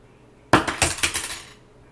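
A metal stick is let go and clatters as it falls, giving one sharp impact followed by several quick bouncing rattles that fade within about a second.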